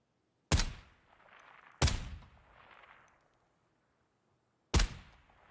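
Three suppressed sniper rifle shots in Ground Branch, each a sharp, loud crack followed by a short rumbling tail, the first two close together and the third after a longer pause.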